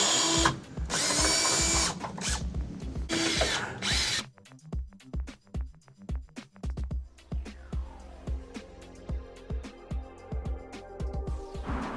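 Power tool backing out the radiator bracket support bolts on a 1999 Mustang Cobra, a loud close whirring burst followed by a train of rapid clicking ratchet pulses and short spins as the bolts come free.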